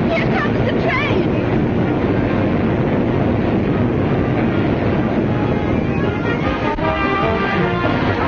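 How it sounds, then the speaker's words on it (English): A train rolls in with a loud, continuous rumble and hiss, close by and filling the scene, with a faint voice briefly audible. "Here comes the train."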